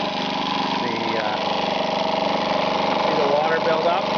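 A 1978 Johnson 2hp outboard motor runs steadily at a fast idle, a constant buzzing drone with a slight rise in pace near the end, heard close over splashing water, with a person speaking over it.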